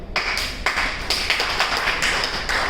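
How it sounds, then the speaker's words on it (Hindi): A group of people at a business training session clapping together in a dense, steady burst of applause, close and loud, with no talking. "तालियां कैसे बजती हैं?"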